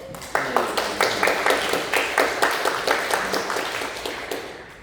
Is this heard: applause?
yes